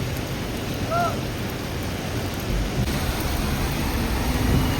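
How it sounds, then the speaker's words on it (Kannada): Heavy rain pours down in Mumbai in a dense, constant hiss, with low rumbling underneath and no voices. "ಬರೀ ಮಳೆ ಹೊಡಕತ್ತಾರ"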